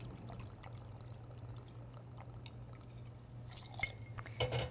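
Silver tequila poured into a cocktail shaker, a soft close liquid stream with a light glassy trickle near the end over low background hum.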